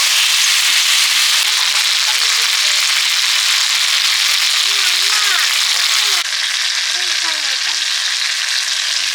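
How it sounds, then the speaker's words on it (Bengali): Already-fried potatoes go into a hot pan of oil for a potato dish and set off a loud, continuous sizzle and spatter close by. A faint voice sits underneath. "এবার আমি ভেজে রাখা আলুটা দিয়ে দিচ্ছি"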